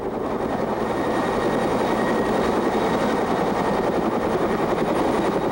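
Steady, loud rescue helicopter rotor noise over floodwaters fills the whole stretch, a constant broadband whir with a low throbbing beneath it and no voices.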